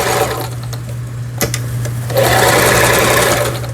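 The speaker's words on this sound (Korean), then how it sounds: "A의 직선 바느질이죠. 여기 C에는 지그재그 바느질." Lion Rx18 household sewing machine running a zigzag stitch after repair, a loud, close, continuous mechanical hum and rapid clatter with a steady low drone and a slight rise in intensity toward the end.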